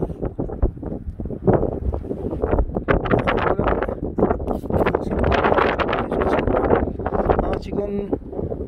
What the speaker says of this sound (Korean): 매서운 바람이 좀 불고 있어요. 바람도 마이크에 타고 들어가고요.